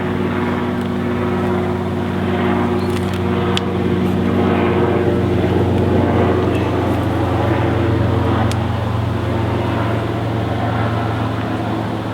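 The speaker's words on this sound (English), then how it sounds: "There's a helicopter coming now." A steady low engine drone hums throughout, like a helicopter passing in the distance, with faint clicks and rustles over the top.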